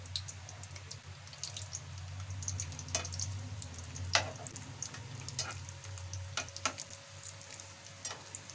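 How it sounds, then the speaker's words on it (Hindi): Bread pieces for shahi tukray deep frying in hot oil, a soft continuous bubbling sizzle with occasional faint ticks and clinks, fairly quiet and with no voices. "अब इनको फ्राई करेंगे, डीप फ्राई करेंगे।"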